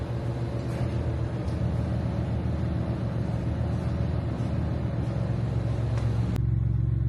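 A car rolls back into a snowy home garage, its engine a steady low rumble throughout, close and continuous, with a brief knock near the end and no talking.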